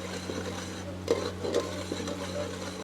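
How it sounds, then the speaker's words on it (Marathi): Onion frying and being stirred for a mutton thali cooked over a wood-fired stove, with soft scraping and a steady low hiss, a few louder clinks of a spoon against the pot near the middle. "कांदा एकदम लाल में भाजा है"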